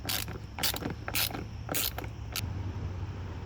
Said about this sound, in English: So put your Torx in there and take this out.